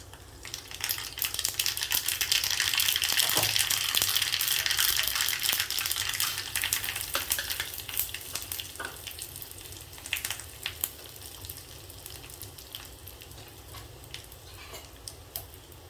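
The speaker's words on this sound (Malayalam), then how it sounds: "പിന്നെ കുറച്ച് കടുക് ഇട്ട് കൊടുക്കാം." Mustard seeds crackle and sizzle in hot oil for a Kerala mango curry, a steady frying hiss with scattered sharp pops and spits that grows briefly louder, then thins into sparse crackles.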